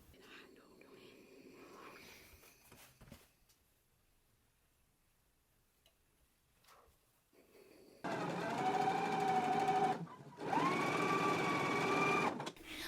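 A sewing machine stitches down a pressed, folded seam edge on a jacket, starting after a quiet stretch with two loud, close whirring runs split by a brief pause, with faint talk earlier.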